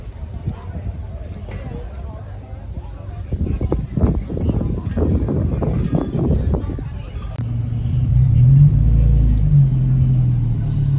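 A car engine with a fuel system needing repair rumbles close by, with clattering knocks in the middle and a deeper steady drone toward the end while people talk.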